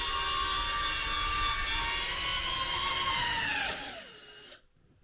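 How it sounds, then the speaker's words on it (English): A DJI Neo 2 drone whirs with a steady high-pitched propeller buzz up close, then the pitch drops as it lands and the motors wind down to silence. "I'm using these to control the drone"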